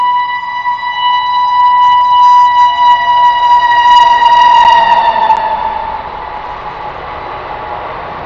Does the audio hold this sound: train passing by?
yes